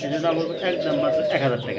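A pair of doves (ghughu) coo softly in a pigeon market setting, their low rolling calls mixed under someone talking close by.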